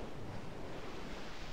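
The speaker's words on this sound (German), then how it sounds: "Oh oh. Wellen. Das ist die perfekte Welle." Ocean waves in the video game Breath of Fire III, a dense, steady rush of surf and wind-like noise, loud and continuous with no voices over it.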